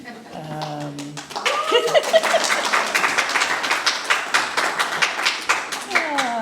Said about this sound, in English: Wow, it's so nice to have applause first thing in the morning